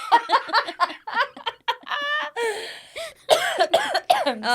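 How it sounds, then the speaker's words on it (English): A woman coughs and splutters in a string of uneven, throaty bursts, some almost laugh-like, close and fairly loud. "Here she is coughing."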